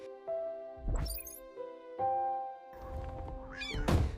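A cat meows several times, a series of drawn-out tonal calls with short gaps between them, close and clear, with a few soft thumps and a louder final cry over a quiet background.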